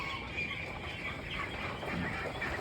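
Meat ducks on a farm quack in a dense, overlapping chorus, a continuous noisy babble of many birds at moderate distance without clear individual calls.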